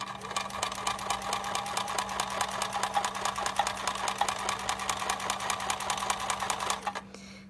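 Sewing machine stitching a quilt while moved too fast, a close, rapid and even mechanical chatter with a steady hum that runs for about seven seconds, then stops.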